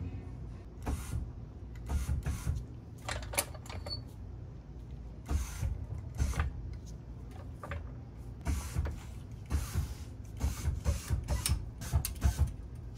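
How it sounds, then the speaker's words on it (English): A jack is raised under a BMW E39 5 Series during lower control arm replacement, giving a series of repeated ratcheting clicks and mechanical scrapes at an uneven rhythm, close by in a quiet garage. "I'm gonna put the jack underneath there."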